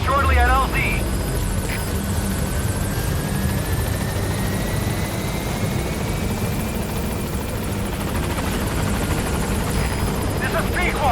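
The Pequod helicopter arrives at a landing zone in Metal Gear Solid 5, its loud rotor and engine roar filling the scene steadily and up close throughout.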